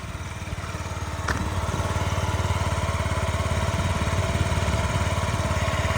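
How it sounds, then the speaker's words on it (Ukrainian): A 2018 Yamaha Gear scooter engine fires up after a second of low rumble and settles into a steady, close, throbbing idle with a regular pulsing beat. "Дивіться, як він заводиться, працює."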